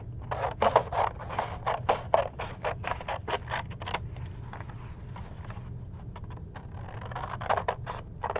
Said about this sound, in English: I'm actually going to cut them out.